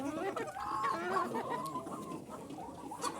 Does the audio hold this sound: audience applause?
no